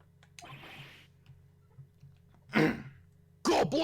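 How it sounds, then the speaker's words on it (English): A character clears their throat in the video game Phoenix Wright Ace Attorney, giving a couple of short, gruff bursts over quiet game background tones. "Maybe I should clear my throat."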